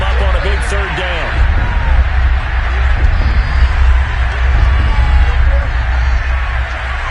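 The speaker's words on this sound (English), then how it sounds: "The crowd getting into it as we come up on a big 3rd down" Stadium crowd noise in Madden 22 swelling ahead of a big third down, a loud, continuous roar with heavy low rumble and rhythmic pulsing, while a commentator talks over it.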